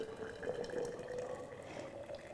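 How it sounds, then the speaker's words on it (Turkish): Hot water streams steadily over cinnamon sticks and cloves in a vessel, a continuous close trickle with a faint ringing fill tone and no speech. "şu şekilde sıcak suyumu döküyorum"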